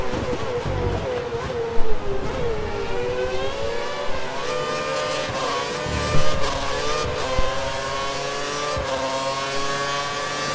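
High-revving Formula One car engine from the racing game F1 2013 at the Malaysian Grand Prix, a loud continuous whine with rising and falling pitch through gear changes, with brief louder bursts and no talking.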